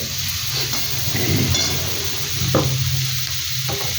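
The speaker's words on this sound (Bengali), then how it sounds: "একটু নেড়ে চেড়ে দেখতে হবে" Taro and prawns sizzle in a pan while a spoon stirs them, a steady frying hiss broken by a few soft scraping knocks, close and without talk.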